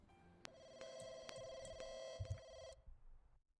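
A telephone rings in the video game The Sims 2, a steady electronic trill sounding alone for about two seconds before cutting off to near silence, with soft game ambience underneath.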